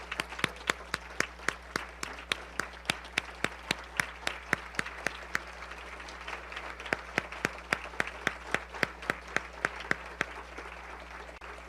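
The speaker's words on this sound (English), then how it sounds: "let's give an outstanding Rotarian round of applause to all of these young people and their achievements" Rotary club audience applauding young spelling bee achievers, a steady run of individual sharp claps standing out over a low background hum, sustained for the whole stretch without voices.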